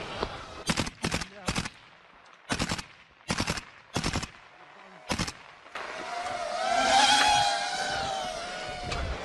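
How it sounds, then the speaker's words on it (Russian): Automatic gunfire in a war zone under drone attack, seven sharp, loud bursts in quick succession, followed by a long, rising engine-like whine that swells and fades. "Автоматическим стреляй!"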